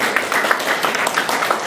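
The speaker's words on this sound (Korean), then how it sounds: "큰 박수로 환영 부탁드리겠습니다" A forum audience at a Daejeon printing-culture development event claps to welcome guests, giving a dense, continuous wash of applause that stays fairly loud and even for the whole moment.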